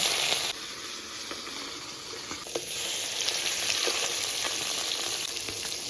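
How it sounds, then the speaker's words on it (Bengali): Pieces of rohu fish fry in hot oil, making a constant bright hiss and sizzle that swells slightly partway through, with a few faint clicks and no voices. "এবার মাছের পিসগুলো এক এক করে ভেজে নেব"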